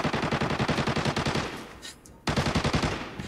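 Rapid automatic gunfire in a video game while shooting at a bag, a loud continuous burst of evenly spaced shots that pauses briefly and then resumes.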